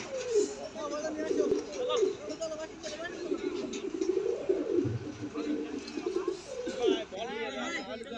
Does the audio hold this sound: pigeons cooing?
yes